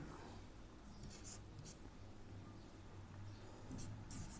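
Pen or marker writing out a class 10 maths proof by hand, a faint, steady scratching with soft strokes throughout, quiet and close with no talking.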